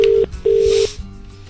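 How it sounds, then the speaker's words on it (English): Loud steady telephone tones on a radio phone call, two flat beeps in a row with a short gap between them, then a softer lingering hum with faint background noise. "listening to bloody dial tones all the time"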